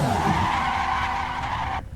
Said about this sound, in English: So we can hear the back wheels are locking there.